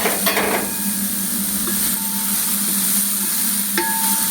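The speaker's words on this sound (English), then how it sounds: "Now we will add this cauliflower, that is full gobi." Cauliflower and sliced vegetables are stir-fried for veg Hakka noodles, a loud continuous sizzle with a few metallic utensil clanks against the pan.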